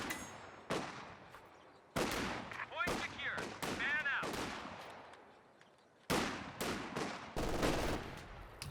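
MG42 machine gun firing suppression in Company of Heroes 2, a 1v1 strategy match: sharp, separate bursts of rattling fire with gaps between them, mid-distance and moderately loud, layered with other battle noise.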